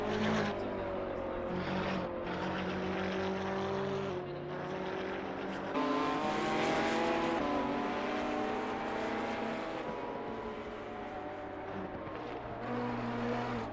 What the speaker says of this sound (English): We're taken on board with this McLaren.